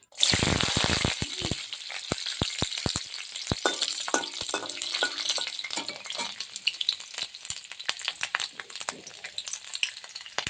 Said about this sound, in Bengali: এবার আমি কড়াইতে অল্প একটু তেল দিয়ে এই যে কিছু রসুন ছাড়িয়ে রেখেছি